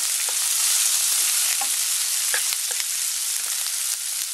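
Onion sautés with salt and ground black pepper in a pan for ginisang halaan, a steady close sizzle with faint stirring scrapes and no talk.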